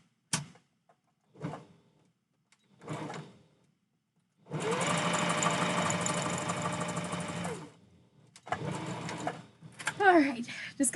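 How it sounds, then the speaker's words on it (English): A sewing machine stitching seams on a fursuit-style husky costume tail runs steadily for about three seconds, close and loud, with a few brief handling knocks before it and a voice talking near the end. "just got a few of these lines to sew"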